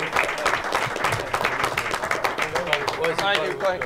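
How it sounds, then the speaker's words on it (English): An audience at a late-night comedy show applauds an acting troupe after a skit, scattered claps and cheers running under a host's voice talking over them. "How about a round of applause for them, huh?"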